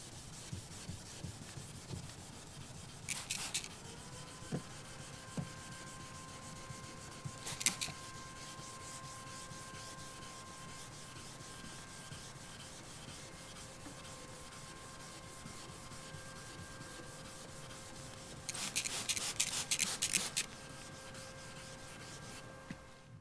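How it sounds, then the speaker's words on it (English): Wet sanding of an acrylic car headlight with an abrasive disc makes a soft, steady rubbing hiss, quiet and continuous, broken by a few brief, louder scraping bursts. "getting to work sanding the surface in a top to bottom fashion"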